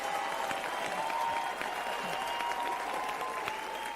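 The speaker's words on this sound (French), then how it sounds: "Vous applaudissez." A congregation at a Cape Town church service applauding in an even, sustained wash of clapping that holds at a steady level throughout, with a faint tone beneath.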